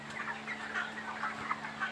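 Broiler chickens in a hot poultry house cluck in a busy, continuous chatter over the steady drone of cooling fans, with no voices.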